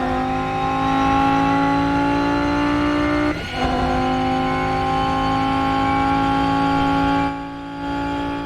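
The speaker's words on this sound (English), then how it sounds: "You've got a nice bit of transmission whine there. The engine, it has a good bit of depth to it." Rennsport race car in the game holds a steady high-pitched transmission whine layered over a deep, full engine drone at constant revs, with a brief dip near the middle and a slight drop toward the end, no talking.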